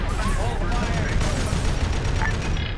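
Dense ARMA 3 gunfire and battlefield noise fill the whole stretch, a constant loud wash of shots and rumble with voices talking over it.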